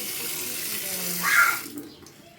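Water runs steadily from a filter tap, a continuous hiss that swells briefly and then tapers off as the flow ends.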